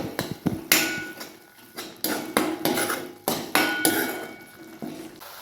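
A spoon clinks and scrapes against a pan while ginger, garlic and coriander paste is mixed into roasted masala for a spicy brinjal dish, with a series of sharp, close metallic knocks in an uneven rhythm.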